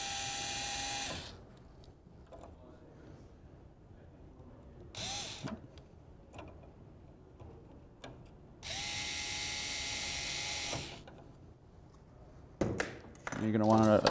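A power drill drives screws in to fit a LidSaver lid claw kit, with two loud sustained whirring bursts separated by quieter handling clicks and a final short rattling burst.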